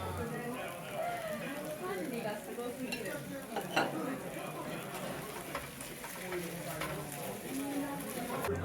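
Noodles sizzle and are stirred in sauce and fat from horumon on a grill at a Japanese restaurant, with soft scraping and clinking under people talking in the background.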